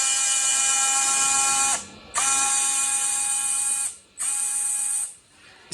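A scale RC off-road car's servo-driven gearbox whirs in three close, high-pitched mechanical bursts separated by brief pauses, sharp and steady-toned while each lasts.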